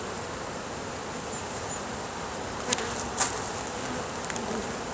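Honey bees buzzing at a beehive, a dense, continuous hum filling the whole stretch, with a couple of brief louder buzzes as individual bees pass close by.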